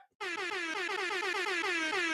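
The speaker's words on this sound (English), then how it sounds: "little light air horn action" A loud, sustained air horn blares continuously after a short pause, with a pulsing tone that holds steady to the end.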